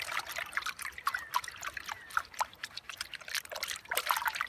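Water trickles and splashes steadily as it rinses across a gold pan full of very fine gold-bearing material, a close, continuous dribbling with small sloshing bursts throughout.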